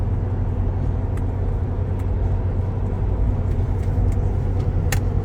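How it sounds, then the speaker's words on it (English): The inside of a moving truck gives a loud, constant low engine and road rumble, with a few faint clicks and no speech. "We're in a truck."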